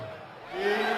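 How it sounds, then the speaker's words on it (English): Cheering rises from the crowd at a darts match, the PDC European Championship, a brief swell of voices and whoops in a large arena. "the crowd involvement when they're cheering every time Justin Pipe throws"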